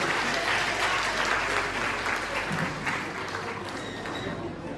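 An audience at a community program claps in a dense, steady burst of welcoming applause that carries on evenly and fades slightly toward the end.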